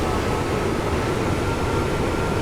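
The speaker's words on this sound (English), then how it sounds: "this train that we're just passing" A train passing alongside in Train Sim World 5, a dense, steady roar of wheels and rushing air, loud and continuous with no talking.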